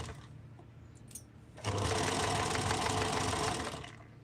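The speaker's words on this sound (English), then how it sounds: "So now I'm going to sew my waistband." A sewing machine stitches a waistband, starting at about 1.6 seconds and running in a steady, loud, continuous whir for roughly two seconds before tapering off, with only quiet room noise before it.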